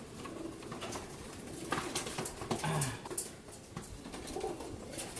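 A racing pigeon hen coos softly among other pigeons, with a few low murmuring coos and faint rustling at a moderate distance.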